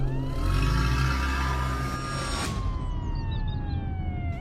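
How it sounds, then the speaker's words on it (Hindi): A police car siren wails with a steady rising-and-falling tone over engine rumble as the vehicle arrives at a village house, fairly close and continuous throughout. "तभी पुलिस की गाड़ी सुरेश के घर आती है।"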